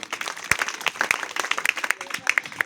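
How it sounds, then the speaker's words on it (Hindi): An audience applauds for a children's karate demonstration, with scattered claps at moderate loudness mixed with crowd noise. "इन बच्चों के लिए एक बार पुनः तालियां बजाइए"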